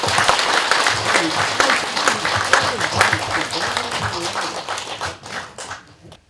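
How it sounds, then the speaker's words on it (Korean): A crowd at a Buddhist organization's inauguration ceremony applauds loudly with dense, steady clapping that gradually thins and fades out near the end, with some voices mixed in. "경하와 축하의 박수를 보내주십시오"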